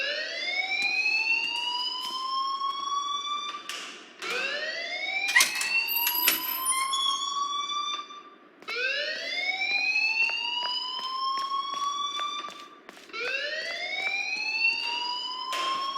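A school alarm in Life is Strange wails in repeated rising electronic sweeps, loud and insistent, each cycle climbing in pitch before briefly breaking off and starting again, with faint clatter underneath.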